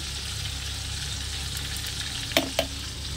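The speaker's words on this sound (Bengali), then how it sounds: "এখানে আলুটা তো ভাজা করছি, তার মধ্যে দিয়ে দিয়েছি হচ্ছে টমেটো।" Potatoes and tomato fry in a pan with a soft, steady sizzle, faint and close, with two brief clinks of utensils partway through.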